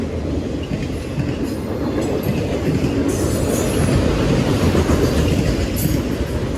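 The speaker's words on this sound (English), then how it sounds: "but then I still caught a train." A train passes on the railroad tracks at Bayview Road in Blasdell, NY, a loud, continuous close rumble of wagons with wheel squeal and clatter, and no one talking.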